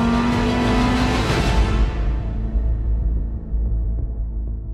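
A Lamborghini Huracan STO's V10 engine roars loudly at high revs, then its sound fades and dulls as the car pulls away into the distance.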